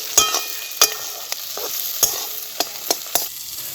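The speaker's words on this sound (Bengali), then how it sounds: "এবার নাড়বো।" Egg korma gravy with green chillies and soaked cashews is stirred in a pan, a spoon scraping in several sharp strokes over a steady sizzle, close and clear with no talk.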